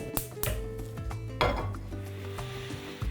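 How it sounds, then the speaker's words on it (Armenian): A small frying pan set down on a stovetop gives several close metallic clanks and scrapes, with faint sizzling between them and no voices. "Գրակին ենք դնում փոքրիկ տապակը։"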